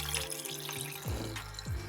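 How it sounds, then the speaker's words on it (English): Water from a cold brew coffee batch draining out through a lifted coffee filter into a container, a steady close trickle and splash with a few gurgling surges, heard alone. "we're just gonna let the water filter out"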